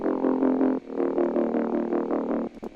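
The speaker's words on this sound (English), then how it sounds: "all I do is I add another gritty bass that sounds like this" A gritty, buzzing bass synth line built in Serum with automated movement, playing a rhythmic pattern of sustained notes with a hovering, pulsing character, loud and alone before a short break near the end.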